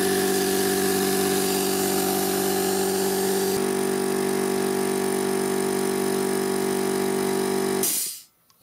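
An air compressor, a Lidl Parkside or Scheppach model, runs on a solar generator with a loud, steady motor drone and an even hum, then cuts off abruptly near the end, leaving near silence.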